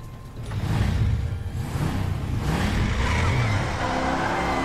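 Motorcycle engine in Resident Evil 6, a loud revving roar with pitch swells and rough rumble, rising right after a brief quieter start and holding steady to the end.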